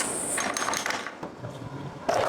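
An old, rusty, never-removed bolt on a KTM 520 EXC dirt bike is loosened with a ratchet, giving a few close, scraping mechanical clicks and metallic ratcheting bursts with no talk.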